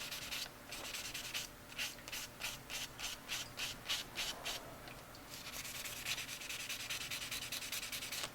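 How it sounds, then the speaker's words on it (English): Rhythmic scratchy strokes of 400 grit wet/dry sandpaper rubbed along a handmade knife blade, close and quiet, a run of evenly spaced back-and-forth passes in the middle with softer rubbing around them. "I got me some 400 grit wet dry sandpaper. Just run that on the knife."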